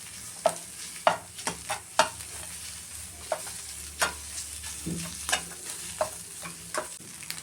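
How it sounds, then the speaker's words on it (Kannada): An egg fries in a pan with a soft, low sizzle, broken by sharp spatula taps and scrapes every second or so, quiet and close, with no talking. "ಈ ಮೊಟ್ಟೆ ಒಂದು ಸ್ವಲ್ಪ ಫ್ರೈ ಮಾಡ್ಕೊತಾ ಇದ್ದೀನಿ."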